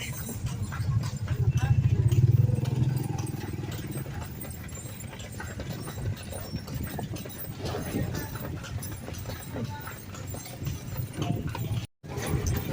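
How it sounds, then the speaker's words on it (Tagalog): Horse hooves clip-clopping on pavement as it pulls a kalesa carriage, a steady rhythmic trot heard up close beneath ongoing talk, with some traffic noise around. "Sakay tayo ng Kalesa."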